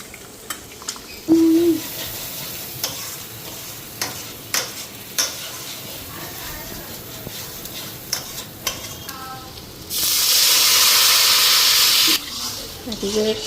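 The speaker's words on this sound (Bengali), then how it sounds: "মাংসের আলুটা ফ্রাই করে নিতেছি কড়াইয়ের মধ্যে" Potatoes for a meat curry fry in a wok with a steady sizzle, broken by clinking ladle stirs. A loud burst of hissing steam swells for about two seconds near the end.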